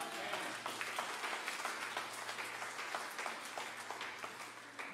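Congregation clapping and applauding during a church service, a dense, sustained round of many hands at moderate distance with a low hum underneath, lasting several seconds.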